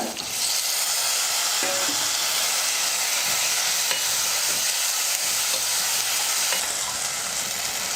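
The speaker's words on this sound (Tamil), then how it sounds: "வெங்காயம் தக்காளி எல்லாம் நல்லா வதங்கிடுச்சு" Onion and tomato sautéing in a pan, a loud continuous sizzle with faint scraping strokes of stirring throughout, close and steady, no voices.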